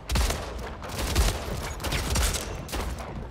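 Shotgun blasts in a 'shotty snipes' video game match, heard as a rapid run of loud, punchy shots about half a second to a second apart, each with a short rumbling tail, with no talk over them.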